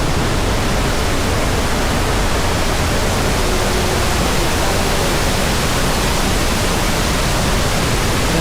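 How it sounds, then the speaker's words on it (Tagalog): Talay Talay Falls in Laguna roars as a steady, dense wash of falling water, loud and unbroken from start to finish with no voices. "ito na yung unang falls yung talay talay o talay talay talay falls"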